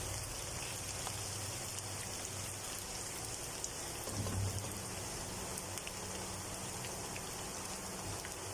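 Arvi (taro root) and baingan (eggplant) frying in oil give a soft, even hiss that stays steady throughout, fairly faint and with no talking.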